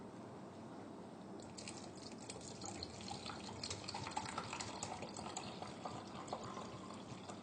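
Homemade blood tonic mixture, a four-part blend shaken before pouring, streams steadily into a pot, giving a continuous liquid splashing and trickling sound for several seconds with no talking.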